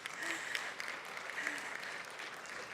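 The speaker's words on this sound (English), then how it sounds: "Clap for her, everyone." An audience at an international public health conference in Africa claps in a steady burst of applause, moderately distant and alone.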